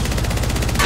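Rapid automatic gunfire in Apex Legends, a dense stream of loud, evenly spaced shots filling a brief burst.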